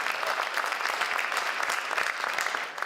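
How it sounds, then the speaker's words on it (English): Audience applause at a college elevator pitch competition, a continuous close rush of many clapping hands, fairly loud and even with slight swells, no voices over it. "How about a big round of applause for our entire category of nonprofit and social advocate"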